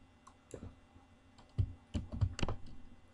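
Keys clack on a computer keyboard as code is typed in Visual Studio 2010, a short run of soft, irregular taps with a few louder strokes, close and alone without talk.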